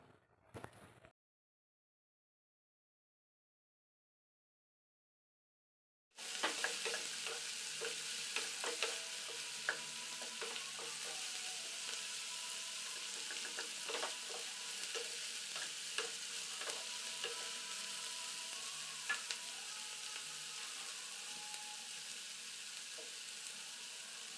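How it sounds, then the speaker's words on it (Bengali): After about six seconds of silence, vegetables fry in white oil in a wok for an egg chilli dish. The sizzle is steady and crackling, with occasional small clicks and pops, and no voices are heard. "তো আমি একসাথে সব সবজিগুলো এর মধ্যে দিয়ে দিলাম। দিয়ে এটাকে আমি এখন ভাজবো।"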